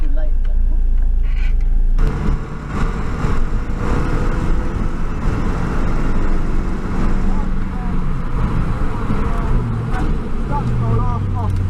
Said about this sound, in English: Start to roll off brakes and hard on the gas now